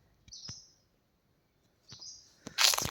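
Two thin high-pitched bird calls from a white bird, separated by a pause, in a quiet forest near Nimgiri Fort, followed by a burst of hissy noise.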